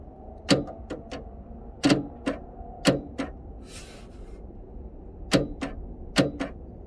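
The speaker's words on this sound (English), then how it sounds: "that's the sound of your trunk opening" Car trunk latch at a junkyard, opened without key or power, clunks and clicks in sharp repeated bursts, loud and close, in groups of quick mechanical snaps separated by short pauses.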